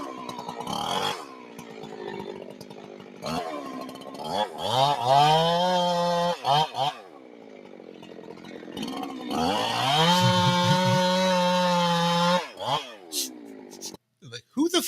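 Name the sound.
chainsaw running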